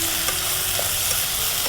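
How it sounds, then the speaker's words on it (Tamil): Chicken sautés in a pan with a loud, close, unbroken sizzle, and faint stirring ticks run through it for a short stretch without any voice. "இதையும் போட்டு கொஞ்சம் நல்லா வதக்கணும்."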